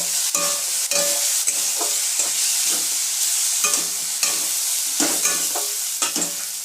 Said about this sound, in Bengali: এইভাবে অবশ্যই নাড়তে আরম্ভ করবেন, তাহলে অবশ্যই পুরো আলুটা যেন কভার করলে কী হবে, আপনার হলুদটা লেগে থাকবে না